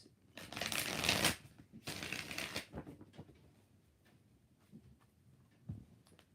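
Two quick bursts of tarot cards being shuffled, crisp riffling up close, followed by quieter handling and a soft tap.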